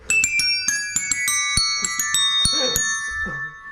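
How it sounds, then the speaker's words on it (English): A phone sound made from desk bells, with a quick rhythmic series of bright metallic dings whose overlapping tones ring on and sustain, close and clear. "Desk bells."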